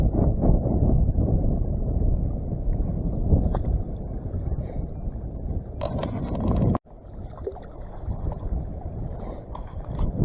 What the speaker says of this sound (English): And I mean wind.